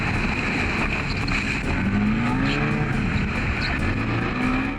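A rescue boat motor roars loudly and continuously at Piha, its engine pitch wavering slightly, mixed with rushing wind and water noise.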